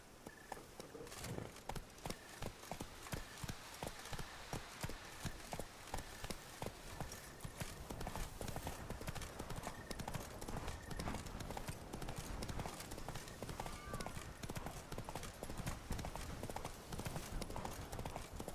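Hooves of the horse Roach clip-clop steadily in The Witcher 3: Wild Hunt, a continuous walking rhythm heard up close throughout, with faint game ambience behind.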